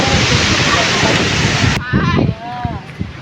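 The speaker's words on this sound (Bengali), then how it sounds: "হঠাৎ করে বিকালে বাতাস, কি পরিমাণ বাতাস দেখেন" Strong gusty wind blowing outdoors in Rajshahi district as a storm arrives, a loud rushing roar buffeting the microphone that cuts off sharply partway through, followed by a person talking over quieter wind.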